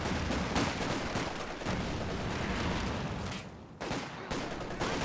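Dense battle gunfire and mortar fire in the strategy game Company of Heroes 2 during a 4v4 match on La Gleize, with rapid overlapping shots and blasts sustained almost without pause.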